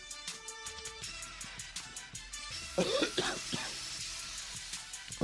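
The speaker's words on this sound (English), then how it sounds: "That was a chronic cough." A short burst of coughing sounds close up over quiet background music.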